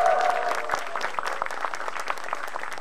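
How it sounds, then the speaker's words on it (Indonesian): Live audience at a stand-up comedy show applauds steadily, a dense wash of clapping that holds at an even level throughout with no talk over it. "Tepuk tangan untuk rakyat Indonesia."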